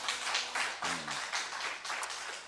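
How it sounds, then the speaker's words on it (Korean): A church congregation claps and applauds steadily during a Sunday service, with a continuous dense patter of hands that swells in small waves throughout. "하나님께 영광의 박수 올리겠습니다."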